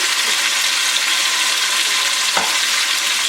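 Salt-and-pepper-seasoned pork for carnitas searing in a hot pan, giving a loud, steady, close sizzle throughout with one brief clink partway through.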